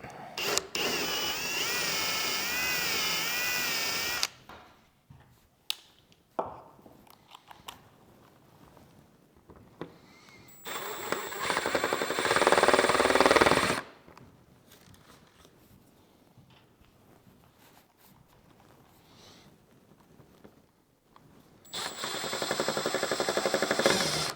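An electric drill bores holes in IKEA desk parts, with a few loud, sustained bursts of whining motor separated by quieter stretches of handling clatter and small knocks, close to the listener.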